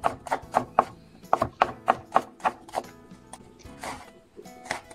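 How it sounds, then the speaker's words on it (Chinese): Knife chopping garlic into mince on a cutting board, heard as rapid close taps in quick bursts with a short pause between runs. "把大蒜压扁，切成蒜末"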